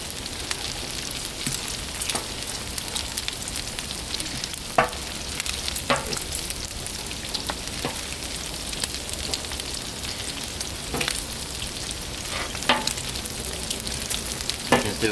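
Bacon fries on a Blackstone flat-top griddle with a continuous crackling sizzle. Sharp pops and spits break through now and then, with no voices.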